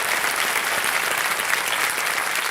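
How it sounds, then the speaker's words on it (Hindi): Dense, steady applause from a gathered audience welcoming guests at an event, many hands clapping together without a break. "तो इनका स्वागत एक बार कर देते हैं तालियों के साथ"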